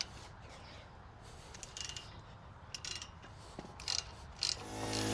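Brake caliper bolts on a 2022 Toyota Tundra being loosened with a ratchet wrench during a front brake service, a faint run of rapid ratchet clicks and metallic mechanism sounds with a few sharper clicks near the end, no talking.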